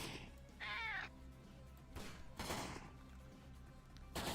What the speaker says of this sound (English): throwing a cat at the SWAT officer did not work the way I intended it to